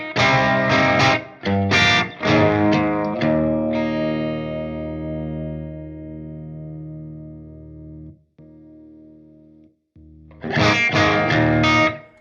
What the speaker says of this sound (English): that was the Jackson Audio Prism